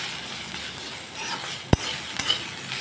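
A spoon scrapes and stirs food in a cooking pot over low sizzling, with a sharp clink of metal against the pot and a couple of softer knocks close by.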